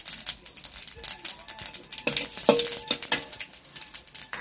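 Bay leaf, curry leaf, fennel, nigella and cumin seeds drop into hot oil for a Bengali lata fish kalia, crackling and spattering in quick irregular bursts, with rattling stirs and a faint tonal background.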